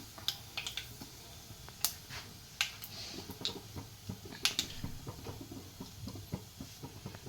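Mustard seeds popping in hot oil in a pan while preparing a Kerala ivy gourd and egg thoran, a steady scatter of sharp little pops and crackles, some louder bursts standing out, with no voices.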